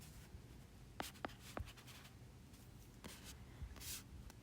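A pen or pencil writes on paper, a few short faint scratches and taps against a quiet hum, close and soft.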